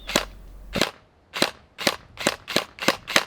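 An LDT UMP45 gel blaster, rated around 300 fps, fires a rapid string of sharp cracks: two quick shots, a brief pause, then a tight burst of five snapping reports close to the microphone, with no one talking.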